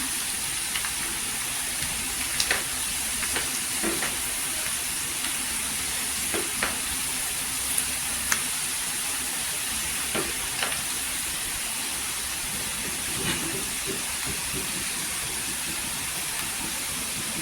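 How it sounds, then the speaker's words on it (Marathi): Dry spices, including homemade red masala and Agri masala, sauté in hot oil with a continuous close sizzle, punctuated by occasional light stirring clicks. "सुके मसाले इथे टाकलेले आहेत तेलावर परतून घ्यायचं"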